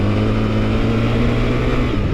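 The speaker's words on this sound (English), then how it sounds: "I'm gonna just blast the throttle full wide open." A 2024 BMW R1300GS Trophy motorcycle engine at full throttle on gravel roars steadily and loudly, a close, sustained drone with a constant low tone and no pauses.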